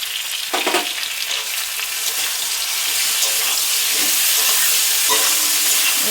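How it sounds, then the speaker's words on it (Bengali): Bottle gourd curry with spices stir-frying in a pan, a loud continuous sizzle with intermittent scraping stirs, growing steadier and fuller toward the end. "ভালো করে নেড়ে কিছুক্ষণ এইভাবে কষাতে হবে।"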